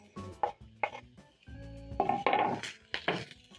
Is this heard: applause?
no